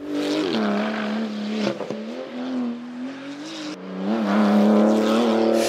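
A 2019 Porsche 935 race car's twin-turbo flat-six engine holds a loud, close, buzzing drone, dipping briefly and then revving up again toward the end.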